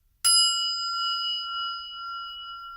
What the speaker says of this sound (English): I'm gonna do it right now, actually. This chime is like a reset.